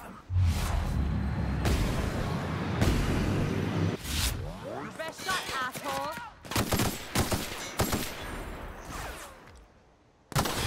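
Gunfire in The Outer Worlds erupts during a fight with outlaws, a string of loud rapid shots and bursts with whooshes between them, continuing for several seconds.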